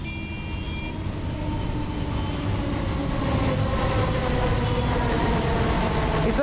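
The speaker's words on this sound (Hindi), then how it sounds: "मेट्रो ट्रेन भी दौड़ने लगेगी" Delhi metro train running on its rails, a steady loud rumble of wheels and carriages with faint high squeals, continuous throughout with no talk.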